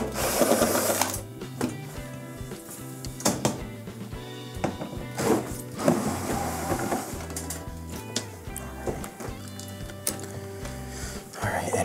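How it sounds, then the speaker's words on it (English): A power driver whirs repeatedly, removing 1/4-inch screws from the back of a Whirlpool washer control panel, with bursts of motor buzz and clunks, close and fairly loud. "There's going to be 2 1/4-inch screws on the back of this that we need to remove first at the top."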